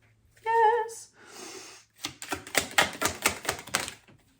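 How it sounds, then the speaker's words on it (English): Tarot cards are shuffled by hand until several fly out, a rapid run of close, crisp riffling clicks lasting about two seconds, preceded by a brief voiced sound and a short hiss. "3 cards flew out."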